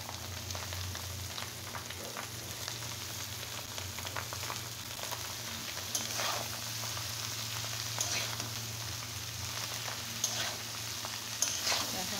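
Flat beans, potato and onion shoots fry in a pan with a steady, close sizzle that holds evenly throughout, with faint scrapes and clicks of stirring now and then.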